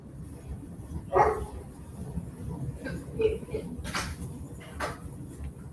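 A neighbours' dog barks a few times from nearby, sharp isolated woofs spaced irregularly over a quiet indoor background.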